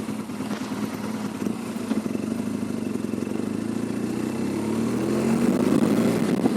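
A Suzuki 1200 GS DOHC motorcycle rides along a damp road on new tyres, its engine a steady mid-pitched drone that climbs gradually in pitch as it accelerates, with wind and road noise throughout.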